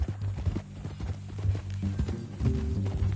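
Horse hooves clip-clop at a walking pace in Red Dead Redemption 2, a steady string of close, light beats over a low ambient hum.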